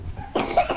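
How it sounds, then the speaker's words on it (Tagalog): A single person coughs once, a short harsh burst after a quiet moment, close and fairly loud. "Ubo ka pa eh."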